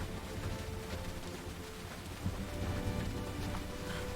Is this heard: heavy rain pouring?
yes